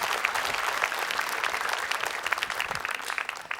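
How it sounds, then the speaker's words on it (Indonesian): An audience at the Alpha Under 40 2022 awards event claps continuously, a dense, fairly soft wash of many hands that carries steadily throughout. "Dan boleh tepuk tangan."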